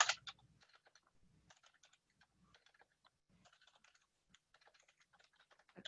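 Computer keyboard typing in a fundraising database program, soft irregular clicks in short bursts throughout, quiet and close, with a louder clatter at the start and end.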